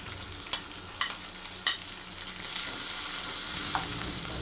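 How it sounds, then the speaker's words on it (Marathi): A large, finely chopped onion frying in a pan for cabbage bhaji, with three sharp stirring clicks early on, then a steady, close sizzle alone. "मला छान असं फ्राय करून घ्यायचं त्यामध्ये।"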